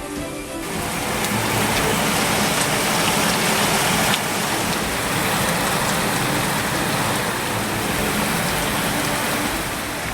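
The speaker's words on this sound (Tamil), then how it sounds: "தென்காசி மாவட்டம் சிவகிரி சுற்றுவட்டார பகுதிகளில் கனமழை." Heavy rain pours steadily in the Sivagiri area of Tenkasi district, a dense, unbroken hiss of falling water that starts abruptly and holds loud and constant throughout, with no voices.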